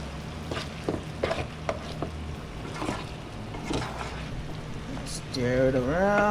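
Home fried potatoes sizzle and get stirred in a pan, soft frying hiss with scraping stir strokes, near and moderate, under a speaking voice, with a tonal sound near the end.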